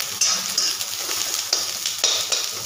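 Onion sizzling and frying in a small amount of oil in a pan, a steady bright crackle with a few louder stirring scrapes and hisses on top, close and continuous.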